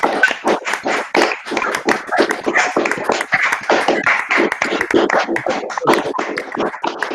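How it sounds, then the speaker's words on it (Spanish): Applause for a guest speaker after a lecture on Visigothic Spain, a small group clapping in distinct, close, rhythmic hand claps that stay steady and fairly loud throughout. "demos un aplauso a nuestro invitado"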